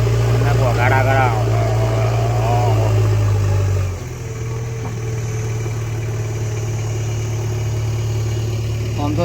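A tractor's diesel engine idles in a steady low drone while a JCB loads soil into it at a Gift City work site, and a voice talks over the engine noise throughout.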